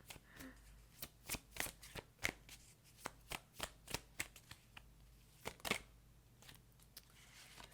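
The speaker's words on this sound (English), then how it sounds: "so I'm going to continue shuffling" Tarot cards being shuffled in a quick series of crisp riffling bursts, close up and fairly quiet, with short pauses between shuffles and no talking.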